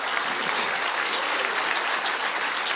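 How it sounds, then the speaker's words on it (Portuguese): Dense, steady applause from an audience at a Christian talk, loud and continuous throughout with no break and no voices over it. "Pode aplaudir"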